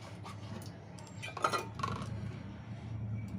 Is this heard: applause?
no